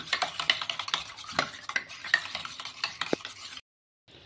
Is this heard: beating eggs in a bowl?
yes